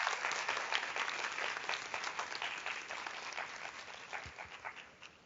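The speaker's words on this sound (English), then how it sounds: "Can you hear the applause?" An audience claps in warm, continuous applause that gradually thins and fades after a talk by Mónica Ramírez, given over a live link.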